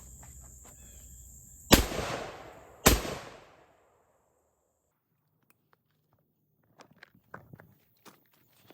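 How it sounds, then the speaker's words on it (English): A Beretta 1301 semi-auto shotgun fires two rounds of buckshot outdoors, about a second apart. Each is a loud, sharp close blast with a brief decaying echo. Faint clicks and handling sounds follow in the quiet afterward. "I'm going to shoot one shot of 8 pellet and one shot of 9 pellet flight control"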